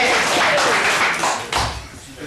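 Audience at a corporate leadership seminar clapping, a continuous burst of applause that swells and then trails off, with a voice speaking over it.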